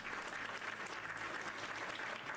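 A short burst of applause effect plays during a Minecraft livestream, a steady wash of clapping at low level with no voices over it.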